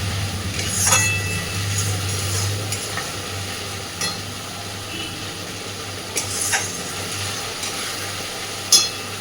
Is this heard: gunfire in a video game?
no